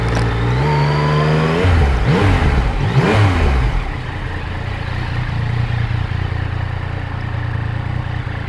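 Yamaha MT-09 2020 motorcycle pulling away and accelerating, engine pitch climbing through gear changes, then settling into a steady loud cruise drone, heard up close without talk.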